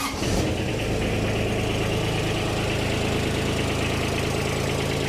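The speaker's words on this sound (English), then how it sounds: "Engine runs good." A Kubota RTV900 utility vehicle's D902 diesel engine cranks after glow-plug warm-up and catches, then settles into a steady, rattling idle with a knocking rhythm, close by and continuous.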